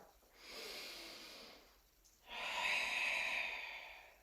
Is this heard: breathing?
yes